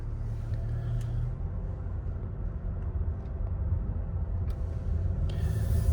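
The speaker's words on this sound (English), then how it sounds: "one more negative thing is that it's quite noisy inside this car" Steady low road rumble and engine drone fill the cabin of a SEAT Tarraco on the move, a continuous moderately loud interior noise with a few faint clicks and no talking.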